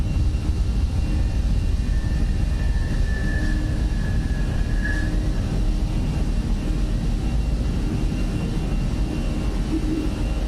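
A simulated A320 airliner takes off and climbs in a flight simulator game, a loud, steady engine roar with broad rushing noise that holds even and unbroken throughout.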